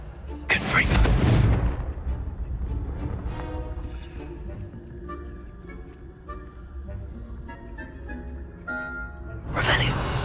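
Confringo fire-blast spells cast in Hogwarts Legacy, two loud broadband booming bursts near the start and end, with a rumbling tonal game soundscape and a voice talking between them.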